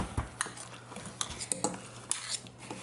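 A spoon and a fork stir dry ingredients in a bowl, giving quick, irregular scraping clinks against the sides at close range with no talk.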